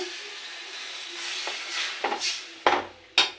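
Masala being fried with a splash of water in a pan, a steady soft sizzle building into several sharp hissing bursts and stirring scrapes toward the end, close and alone.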